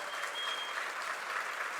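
An audience at the Centro Cultural Graciela Carrera in Córdoba applauds, dense, even clapping from a crowd that holds steady for a short burst at moderate distance.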